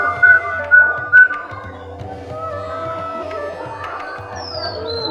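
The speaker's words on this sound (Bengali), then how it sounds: "ভীমরাজ পাখির ডাক।" A black drongo call plays at a science city exhibit in Agartala, Tripura: three short, clear whistled notes near the start, then fainter chirps over a steady low hum of the room.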